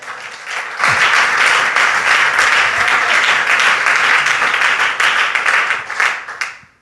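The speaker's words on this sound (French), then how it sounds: "Est-ce qu'on peut acclamer Jésus?" A church congregation applauds to acclaim Jesus during a thanksgiving service, dense sustained clapping rising suddenly and filling the room for several seconds before tapering off.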